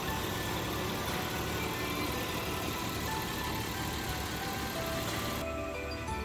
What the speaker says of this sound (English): It's very quiet, you know, engine is running right now.